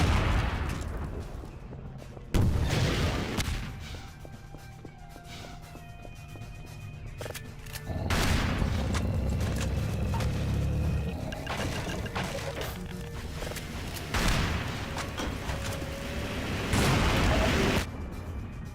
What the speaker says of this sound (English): Those rockets are awful.